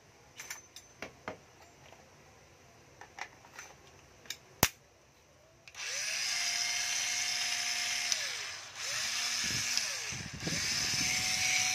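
Makita 7.2V cordless drill whirs in short bursts, its motor pitch ramping up and dropping as the trigger is squeezed and released, close and fairly loud after a stretch of small clicks and handling taps.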